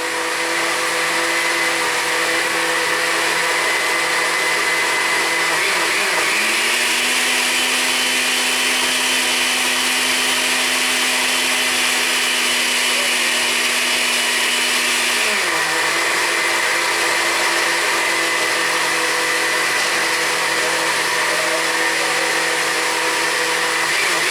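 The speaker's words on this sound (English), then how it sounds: "It's still a little bit grainy, so I'm gonna blend it. Use the ice crush too." A blender runs loud and close on its ice-crush setting, grinding cantaloupe juice for the whole clip, its motor pitch rising for a stretch in the middle and then dropping back.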